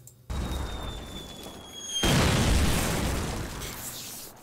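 Mortar explosions in the video game Call of Duty (2003): after a brief hush, a steady rumbling blast bed builds, then a heavier, louder eruption hits midway and rolls on, with a high whistling tone early on.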